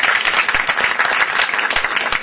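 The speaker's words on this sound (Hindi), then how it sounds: "इन सब के लिए बहुत ज़्यादा तालियां बजा दीजिएगा आप लोग।" Loud, dense audience applause for a performing band at a TGI Pakistan event, with continuous rapid clapping from a large crowd and no talk over it.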